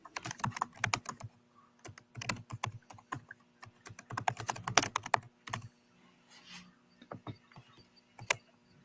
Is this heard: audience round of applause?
no